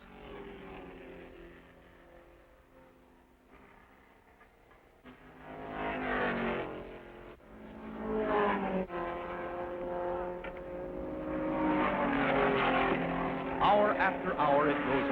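Production Corvette race cars at the 1957 12 Hours of Sebring, engines droning and rising as they pass, loud and sustained, with a narrator's voice over the whole stretch.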